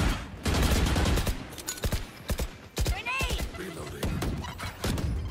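Rapid gunfire bursts from the tactical shooter Valorant during ranked play, sharp repeated shots and clatter in quick succession alongside in-game effects, with people talking over the action.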